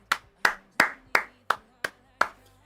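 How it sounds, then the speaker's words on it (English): Seven separate sharp hand claps in a slow, fairly even rhythm, loud and close, from one person during a live F1 Mexico Grand Prix qualifying watchalong. "Round of applause for Charles Leclerc,"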